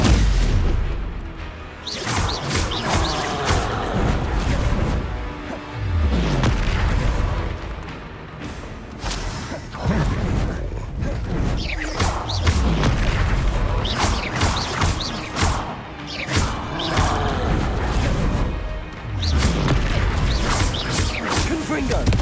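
Repeated Confringo and Incendio spell blasts in Hogwarts Legacy boom and crash almost without pause, layered with whooshes and impacts in a loud, dense fight.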